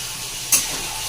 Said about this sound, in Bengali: এখন হচ্ছে চিকেনটা রান্না করে নিচ্ছি